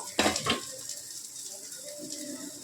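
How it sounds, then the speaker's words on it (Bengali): Squash pieces dropped into a cooking pot with a splash of water added, giving two short clattering bursts near the start, then a faint simmering sizzle and light kitchen noise. "এবার আমরা কোয়াশগুলোকে দিয়ে দেবো, একটু জল গেলে ফেলে নেব।"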